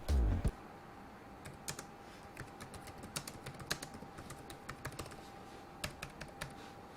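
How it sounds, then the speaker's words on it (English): Soft, quick keystrokes tapping on a Lenovo Legion 5 Pro laptop keyboard in an irregular rhythm, quiet and close, with no talking. "the keys feel very responsive when typing"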